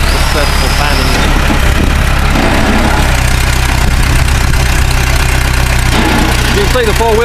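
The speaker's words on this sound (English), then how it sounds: "Sharp little rig. Perkins diesel engine." A Massey-Ferguson 650 four-wheel-drive tractor with a Perkins diesel engine runs steadily at idle nearby, a continuous low rumble with faint knocking that carries on throughout.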